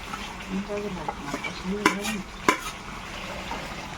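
Duck meat curry being sautéed in a pan with tomato and Kashmiri chilli powder, a soft sizzle under quiet background voices, broken by two sharp utensil knocks against the pan.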